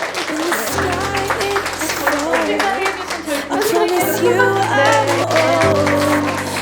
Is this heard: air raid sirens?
no